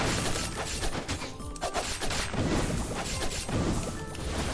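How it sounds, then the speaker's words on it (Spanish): Explosion in the game Skul, a run of crashing, shattering blasts and thuds piling over each other for several seconds, loud and dense. "Está guapa la explosión esta"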